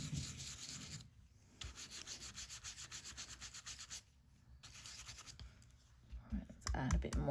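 A sponge dabs ink onto a handmade stamped card in bursts of soft, rapid rubbing and scratching, with brief pauses between them. The sound is close and quiet, with faint handling noise toward the end.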